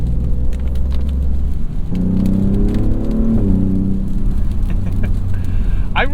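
Engine and exhaust of a 2024 Maserati GranTurismo Trofeo while driving, a steady low drone from inside the cabin with a brief rising note midway.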